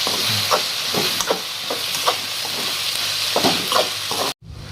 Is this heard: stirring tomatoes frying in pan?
yes